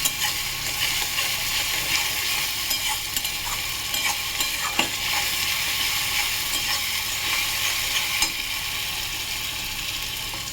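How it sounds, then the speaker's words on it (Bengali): Garlic frying with onions in a pan, a dense steady sizzle with scattered metallic stirring clicks and scrapes, close and even, no talk. "রসুনটা ভেজে নেবো ভালোভাবে"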